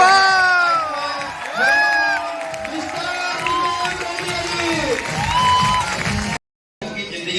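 An audience claps and cheers loudly for a guest at a motivational talk event, with excited shouts and whoops rising over the applause; voices carry throughout and there is a brief dropout near the end.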